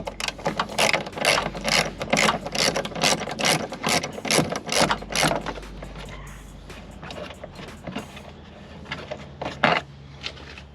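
A ratchet clicks in rapid bursts while loosening a bolt behind the power window, lock and mirror switch section of a car door panel, close and loud for about six seconds, then slower scattered clicks and knocks.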